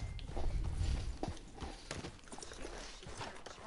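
Horse hooves on the ground in Red Dead Redemption 2, a close and uneven clip-clop of several hoof strikes at walking pace.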